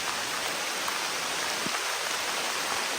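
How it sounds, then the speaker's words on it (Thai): Heavy rain falls steadily as a dense, even wash of noise with no talking. "ตอนนี้ฝนมันตกหนักมากเลยนะครับ"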